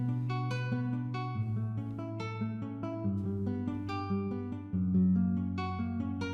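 A quantized drill beat melody at 142 BPM, programmed in FL Studio, plays as steady harmonic synth or bell-like notes over a sustained low bassline, with no voices present.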